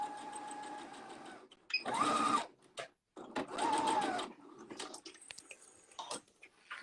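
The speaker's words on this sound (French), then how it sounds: "On fait une marche avant, marche arrière. Et on pique tout le long." A sewing machine stitches along a seam, forward then in reverse, in two close whirring bursts of about half a second each, separated by a brief pause, with quieter handling sounds around them.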